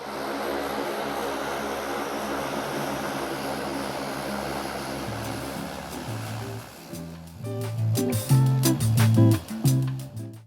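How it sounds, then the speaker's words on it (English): A 33-year-old turboprop airliner taxiing onto its stand in wet weather: a steady propeller and engine drone that gives way to throbbing, pulsing propeller tones as it pulls in, heard from nearby. "With the aircraft pulling in on stand"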